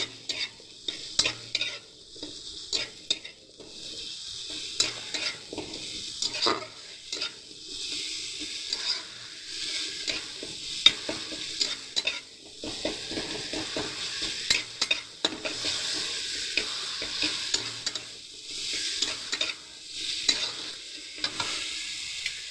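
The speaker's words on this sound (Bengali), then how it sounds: "এবারে আদাটা ভালো করে একটু মশলার সাথে ভাজা করে নেবো, গ্যাসের ফ্লেমটা বাড়িয়ে" Ginger frying with spices in a pan over a high gas flame, a steady close sizzle broken by frequent scraping stirs of a spoon against the pan, continuous throughout with no voices.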